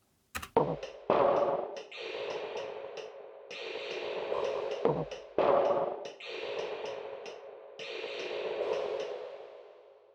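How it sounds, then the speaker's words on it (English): Drum crashes processed through the Basslane Pro plugin: several bright metallic hits with long, high ringing tails, separated by brief gaps, clear and isolated with no talking. "With Basslane Pro, they sound like this."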